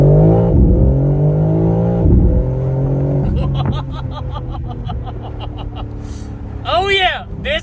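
A 2024 BMW M4 LCI engine revs and pulls hard under heavy acceleration, a loud, rising drone with shifting harmonics, with people talking and laughing over it.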